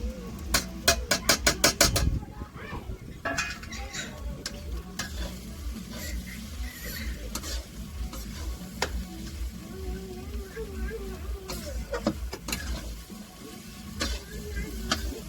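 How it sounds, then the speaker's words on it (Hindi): Spices (garlic, coriander powder, turmeric, chili powder) sizzle and crackle steadily in a hot pan for rajma curry, with a metal spoon clinking and scraping at the start and occasional stirring taps throughout. "लहसुन, ये धनिया पाउडर, हल्दी पाउडर, मिर्ची पाउडर साथ में हम भूजा"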